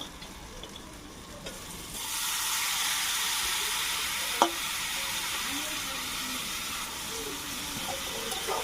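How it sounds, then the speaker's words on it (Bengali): Boiled potatoes and chopped banana flower get stirred with chili powder in a frying pan: a steady frying hiss starts after a quiet moment and continues, with soft scrapes of a spatula and one sharp tap partway through. "একটু ভালো করে নাড়াচাড়া করে নেব সিদ্ধ করে রাখা আলু আর মোচাটা দিয়ে দেব"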